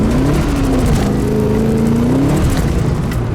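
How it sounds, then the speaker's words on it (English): Land Rover V8 engine accelerating in second gear at quarter throttle, a loud, close, continuous rising growl with the pitch climbing and dipping slightly as it pulls. "this is second gear, and I'll give it quarter throttle"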